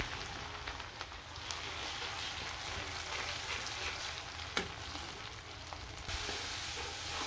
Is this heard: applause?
no